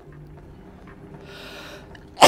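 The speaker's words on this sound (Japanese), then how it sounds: "くしゃみ。" A single sharp sneeze bursts out loudly at the very end, following a couple of seconds of quiet breathy background sound.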